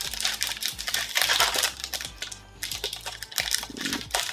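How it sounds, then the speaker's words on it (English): Crinkly plastic packaging rustles and tears up close, with irregular scratchy crackles and small clicks, no talking. "I wonder if I can just tear it somewhere."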